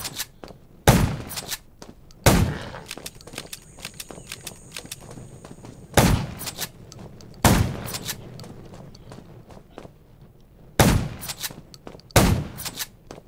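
Sharp, loud gunshots ring out in spaced pairs and singles, each with a brief echoing tail, over quiet background with faint clatter between shots, in the video game Undawn played on an iPad.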